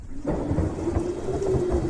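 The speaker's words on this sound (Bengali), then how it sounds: "এখনই ঝড় তুফান উঠছে।" A thunderstorm effect from a horror audio drama: a loud, steady wash of rain and storm rumble fills the whole two seconds, with no voices.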